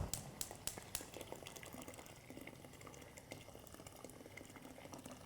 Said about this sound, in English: my kettle's boiled. So I'll just fill up that pot and I'll pop that onto a high heat.